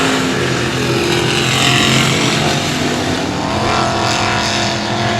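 Race cars roaring around the oval at 281 Speedway on the final lap, a loud, steady engine drone sustained throughout with no clear breaks between passes.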